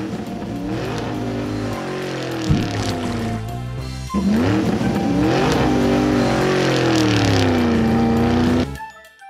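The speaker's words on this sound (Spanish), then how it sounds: "Monster truck." A monster truck engine roars loudly and steadily, its pitch rising and falling through revs across the whole stretch, with a short dip midway and an abrupt cutoff at the end.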